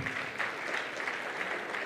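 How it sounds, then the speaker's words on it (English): Applause from a conference audience, a steady wash of many hands clapping at moderate level, fairly distant and even throughout with no voices over it. "Another round of applause, ladies and gentlemen,"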